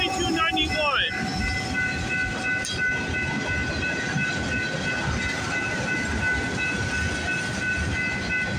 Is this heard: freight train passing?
yes